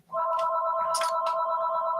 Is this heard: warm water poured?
no